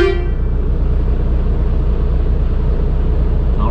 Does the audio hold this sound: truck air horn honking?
yes